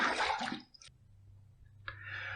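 Water splashes during a face rinse after a shave, in two short bursts, a loud splashy one first and a second after a brief pause, close and with no talking.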